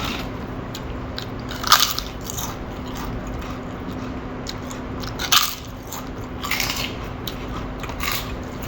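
Someone eats crisp sago papad with tea, giving a few sharp crunches at separate moments against a steady low room hum, with no talking.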